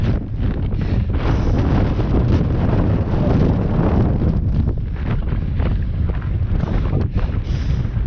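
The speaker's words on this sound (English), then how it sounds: "having to yell because the wind is so bad" Strong, gusting wind on a mountain summit in Cumbria buffets the microphone in a loud, continuous roar with brief dips, no voices audible.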